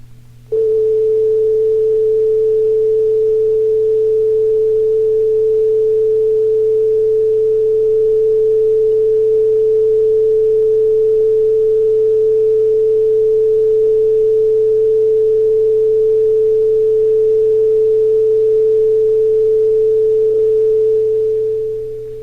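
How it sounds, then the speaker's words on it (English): A steady A-note reference tone for tuning a Casio SK-1 sampling keyboard, a pure unwavering sine-like pitch held loud and constant for about twenty seconds. "Following is a steady-sounding A note you can use as a reference."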